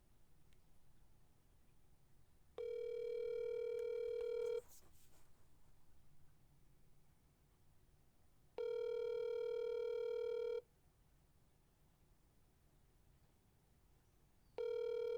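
A telephone rings on an unanswered call, three long electronic ring bursts of about two seconds each, evenly spaced with quiet gaps between, loud and close over a faint background with no talking.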